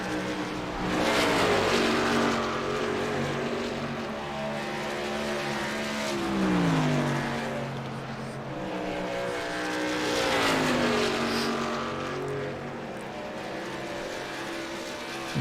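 NASCAR race cars at speed around Dover's oval, several engines roaring loud and continuous, pitch sweeping down as cars pass close by, with a steady layered engine drone between passes.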